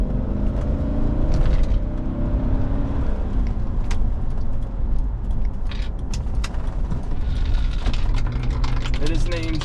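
2001 Mercedes-Benz ML55 AMG accelerating through a light from inside the cabin, a steady loud engine and road roar throughout with the engine note climbing, and a person talking over it.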